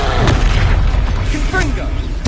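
A Confringo blasting spell in Hogwarts Legacy bursts with a heavy low boom amid combat noise, while a voice speaks over the action.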